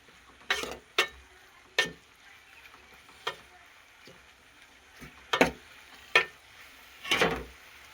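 Kanjara leaf bhaji being stirred and mixed in a pan, with a series of separate scraping, clattering strokes, some sharp and close, spread across a quiet background with no talk.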